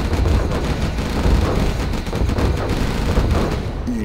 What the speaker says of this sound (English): Gatling cannon is ready.